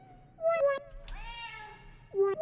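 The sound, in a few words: mackerel tabby Korean shorthair cat meowing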